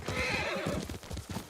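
A horse neighs loudly in Ghost of Tsushima, a high quavering whinny up close, with hooves clopping underneath and trailing into a few quieter snorts.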